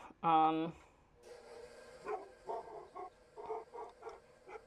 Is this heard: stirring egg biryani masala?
no